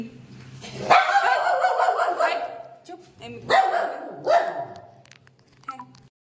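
A dog barks loudly in two close bursts, then yelps a few times more softly, while a person's voice speaks briefly nearby, in Bhubaneswar during Ganesh puja in the evening.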